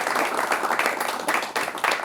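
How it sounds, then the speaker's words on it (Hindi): Studio audience applause welcoming a guest on a televised UPSC civil services success show, a short burst of brisk clapping with uneven swells, fairly close and moderately loud. "Anshul Bhatt, all India rank 22, तालियां बजाकर स्वागत कर सकते हैं।"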